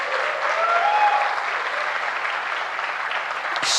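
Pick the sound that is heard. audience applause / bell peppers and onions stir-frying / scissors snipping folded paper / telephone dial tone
audience applause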